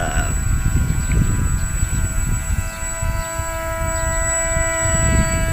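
A DIY RC airboat's engine with an exhaust fitted runs at raised throttle, giving a loud, steady droning whine with sustained tones, close and continuous, much like a small aircraft.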